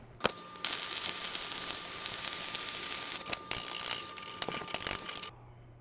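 Flux-cored arc welding on a multi-pass T joint, laying the fifth pass: a steady, loud crackling sizzle runs for about five seconds with sharp pops scattered through it, ending abruptly when the arc stops.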